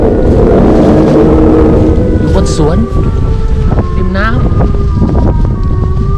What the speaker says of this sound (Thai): โอ้ลมแรงมากนะครับ